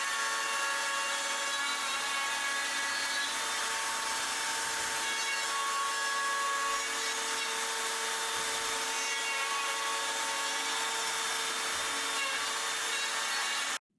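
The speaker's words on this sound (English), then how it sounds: "I decided to chamfer the top of the lid because it looks better. To do so, I used my handheld Makita router." A handheld Makita router chamfers the top edge of a wooden lid, giving a continuous, loud, high-pitched whining cut that holds steady, close up, for about fourteen seconds before stopping sharply.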